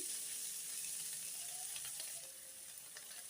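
Cabbage with ginger garlic paste frying in oil, a steady, close hiss and sizzle with faint crackles, with no talk.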